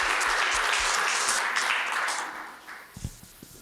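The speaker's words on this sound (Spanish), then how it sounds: "Un aplauso al Rey de Reyes." Applause from a church congregation, dense clapping that fills the first two seconds and then thins out, with a few scattered louder claps near the end.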